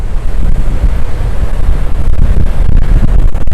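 Strong morning wind buffets the microphone on an ocean beach at Gamble Rogers State Park in Florida, a loud, continuous low rumble with surf mixed in and no voices.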